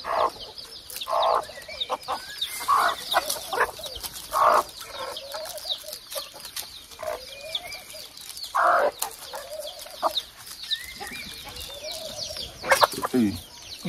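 Hens and roosters cluck and chatter close by in a steady, busy stream, with short bursty calls overlapping throughout and occasional louder squawks.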